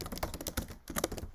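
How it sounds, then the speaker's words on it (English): Typing on a computer keyboard during a statistics assignment session: a quick run of close, light key clicks in uneven bursts, with a brief pause near the middle. "ignore my typing"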